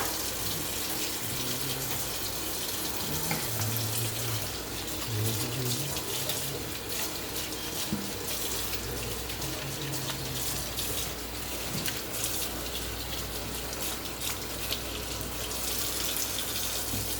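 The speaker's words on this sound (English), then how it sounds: "wash your hands." Hands are washed under a running kitchen tap, a steady close gush of water splashing into a sink that continues without a break, with no talk.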